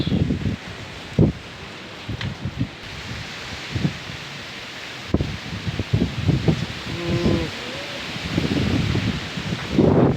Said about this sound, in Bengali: ওরে বাপ রে বাপ, যে পরিমাণে বাতাস।